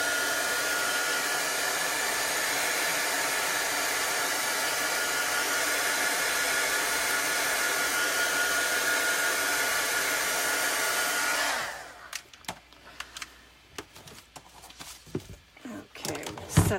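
A hair dryer blows steadily and close while drying chalk transfer paste, a constant loud whoosh that cuts off near the end, leaving a few soft handling clicks and taps.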